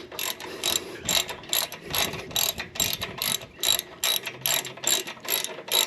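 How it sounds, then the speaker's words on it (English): A socket wrench ratchets in quick, even bursts while tightening a 3/16 Allen bolt on the slip-on exhaust of a Harley Softail Lowrider, the clicking close and steady for several seconds with no talk. "Tightening down that 3/16 Allen"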